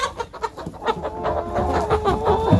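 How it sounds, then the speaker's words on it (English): A hen calls just before laying an egg, giving a run of loud, close clucks that build into a drawn-out, rising cackle near the end. "that is the sound of a chicken that is just about to lay."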